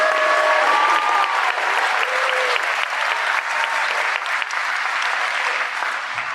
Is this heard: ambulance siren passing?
no